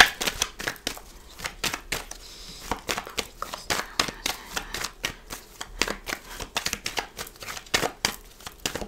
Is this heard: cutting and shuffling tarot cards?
yes